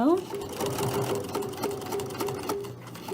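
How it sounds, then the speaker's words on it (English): A sewing machine stitches quilt binding at a corner, running in a steady whirring hum with rapid needle ticks, close and fairly loud, while a person talks over it. "I'm going to stitch this here, and then I'll show you what it looks like from the back side."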